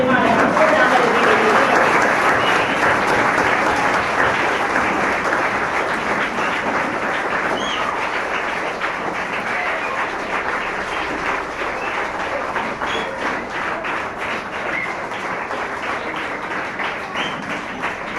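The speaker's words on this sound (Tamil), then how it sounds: "எழுந்து நின்று பர்ஹாவுக்கு உங்களுடைய பலத்த கரகோஷத்தை" Sustained applause from a large crowd of students at a school ceremony, dense and steady, gradually easing slightly in loudness over a long stretch.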